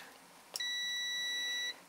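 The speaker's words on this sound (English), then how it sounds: "Now this one is anything less than, I believe it's 20 ohms, okay, is gonna give you a beep." A Kaiweets HT118E multimeter in continuity mode gives a single loud, steady electronic beep of just over a second, clean and close, after a short click as the probes touch.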